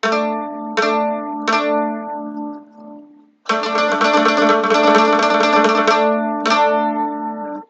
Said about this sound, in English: They combine together to sound like this.